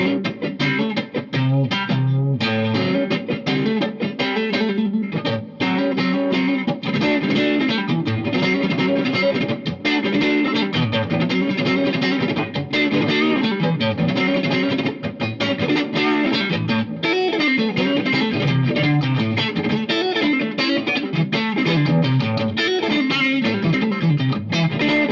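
Electric guitar solo from a live solo performance of a song at a clinic, played alone as a dense, continuous, effects-laden distorted line with sustained notes throughout and no talking.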